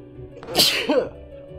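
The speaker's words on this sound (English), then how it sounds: "Oh, here comes the sneeze." A Kingdom Hearts character sneezes once, a short sharp burst with a brief voiced lead-in, clear over faint background game audio.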